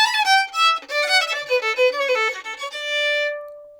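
Solo fiddle playing a bluegrass walkup kickoff in D with an upper neighbor note, a quick run of bright bowed notes that climbs and settles onto a long sustained final tone, clear and close with no talking.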